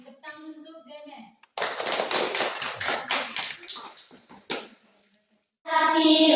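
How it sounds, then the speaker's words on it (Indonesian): Children clap their hands in a burst of loud applause at a school lesson, with a short gap before a second round, between stretches of children singing. "Tepuk tangan untuk JMS."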